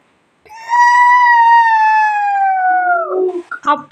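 A dog gives one long, loud, wavering howl on command, sliding slightly downward in pitch, then breaks off into a few short, choppy yelps and whines.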